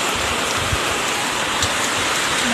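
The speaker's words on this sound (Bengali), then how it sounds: "দারুণ বৃষ্টি পড়ছে ভালো লাগছে" Steady rain falling continuously, a dense even hiss with occasional heavier drops, no voices.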